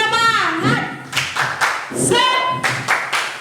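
A group of toddlers and young children at Sunday school claps together in a quick rhythmic pattern, with lively young voices calling out between the claps.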